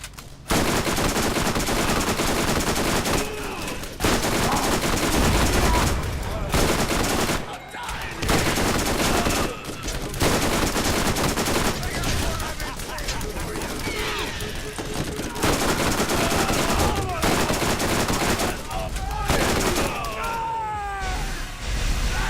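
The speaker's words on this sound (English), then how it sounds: "Let's bring out the SMG." SMG fire in the video game Borderlands, with rapid automatic bursts repeating loudly across the clip, separated by short pauses, alongside game effects and occasional voice.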